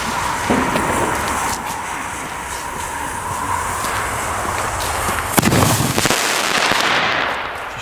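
Knister Teufel firework rockets launch and burst outdoors, a loud continuous crackling roar with sharp bangs layered throughout, sustained across the whole stretch.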